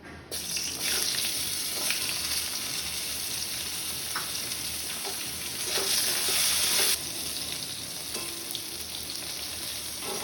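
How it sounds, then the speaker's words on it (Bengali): Eggplant slices fry in hot oil, a constant bright sizzle and crackle with occasional soft spatula taps, swelling louder midway before settling back. "আমি বেগুনটা ভেজে নেব"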